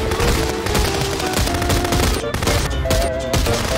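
Dense, loud automatic gunfire in the video game Contraband Police, sounding as rapid overlapping bursts that fill the whole stretch with almost no pause.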